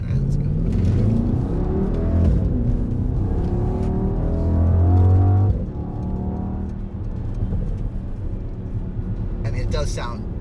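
A 2021 Mercedes-AMG GLE 63 Coupe's V8 rumbles deep and loud from inside the cabin as it accelerates, the engine note rising and swelling before easing off, with someone talking over it.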